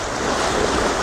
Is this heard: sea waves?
yes